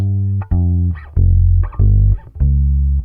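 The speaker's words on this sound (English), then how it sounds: "this little bit of distortion just so it can cut through" Distorted, buzzy tones play in short phrases with brief gaps, loud and close, with a gritty, saturated edge.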